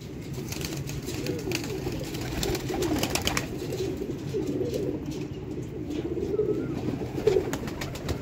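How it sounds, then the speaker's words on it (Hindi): Pigeons coo softly and repeatedly, several low murmuring calls overlapping at a moderate distance against a quiet background. "देखो दोस्तों कबूतर"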